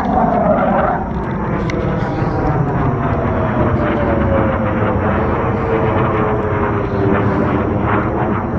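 Low-flying fighter jets pass overhead with a loud, sustained roar and a slowly falling whine, steady in level across the whole stretch with no pauses.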